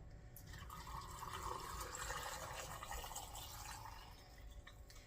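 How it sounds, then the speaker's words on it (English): Brine pours steadily into a jar packed with green olives, a continuous trickling stream of liquid close up, with no talking. "So now I'm going to fill this jar with juice too."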